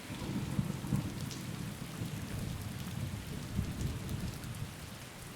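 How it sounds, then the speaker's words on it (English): Steady rain lashes and drums against a car windscreen, with low rumbles of thunder rolling underneath, continuous and close throughout. "The rain lashed against the windscreen, a relentless drumming"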